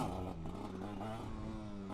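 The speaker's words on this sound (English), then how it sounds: "this is basically a power wheelie, but it gets you the feel of how a wheelie is" A small 50cc-125cc motorcycle engine revs hard during a power wheelie, a steady loud buzzing drone with rising and wavering pitch, close by.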